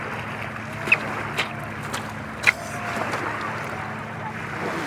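Choppy surf at Green Point Beach stirred by passing jet skis and boats: a constant wash of water and wind, a low motor drone underneath, and a few sharp splashes or knocks breaking through.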